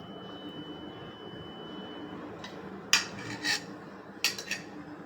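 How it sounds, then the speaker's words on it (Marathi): A spoon clinks against a bowl a few times while yogurt is added to dahi vada, three short metallic taps standing out over a steady background hum. "आता मी याच्यावर दही घालते."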